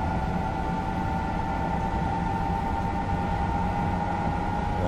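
A train in Train Simulator 2020 rocks along at 180 mph, producing a constant loud rumbling roar with a steady tonal hum layered over it, unbroken and with no voices.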